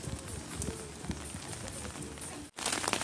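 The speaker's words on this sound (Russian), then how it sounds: "Пошел сильный прям ливень." Heavy rain pours down outdoors by a school, a dense, close hiss of pattering drops with heavier splashes, broken by a brief silent gap before resuming loudly.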